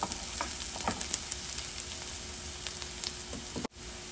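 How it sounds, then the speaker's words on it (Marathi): Chopped onion sautéing in a pan, a soft continuous sizzle with faint scattered crackles and stirring scrapes, quiet and close, ending in a brief knock. "कांदा आपला छानपैकी परतला आहे"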